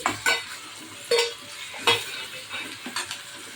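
Tomatoes go into a hot, sizzling pan for sambar, with a soft steady fry and several scraping stirs of a spoon at regular intervals. The sound is quiet and close, with no talking.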